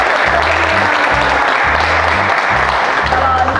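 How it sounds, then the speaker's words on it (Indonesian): Studio audience at an Indonesian talk show with maritime polytechnic cadets applauding in steady, loud clapping that fills the whole moment, with a rhythmic low thumping underneath. "Tepuk tangan dulu."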